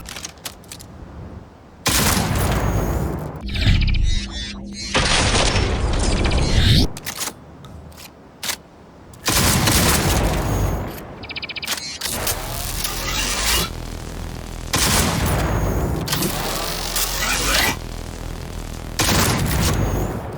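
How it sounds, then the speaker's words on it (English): The DB2 Satara charge-up shotgun in Cyberpunk 2077 fires in a run of heavy booming blasts with mechanical clatter and brief charging gaps between shots, loud and close, with no voices. "The DB2 Satara is an awesome techie charge-up shotgun."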